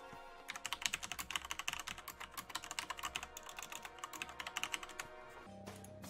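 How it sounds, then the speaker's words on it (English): Rapid, furious typing on a computer keyboard, a dense run of close, loud key clacks for most of the stretch, stopping just before the end with no talk. "Furious typing."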